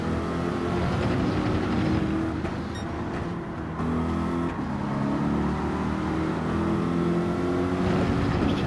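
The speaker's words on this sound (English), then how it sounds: "Just hear that low grumble of that V12 engine in the Corvette." A deep, steady V12 engine rumble from a Corvette in a racing video game drones continuously with a low growl, loud and unbroken throughout with slight shifts in pitch.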